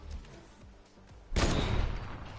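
Gunfire in the Fortnite video game during a tournament match, a sudden loud burst of shooting after a quieter stretch, sustained and heavy to the end.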